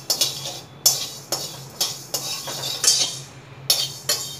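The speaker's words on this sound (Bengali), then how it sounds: "মেথিটা প্রথমে কিছুটা নাড়াচাড়া করে নিচ্ছি। আমি মেথিটাকে ভেজে নিচ্ছি," Fenugreek seeds stirred and fried in a pan over low heat, with a spatula making a run of sharp, repeated scraping clicks at an uneven rhythm and no talking.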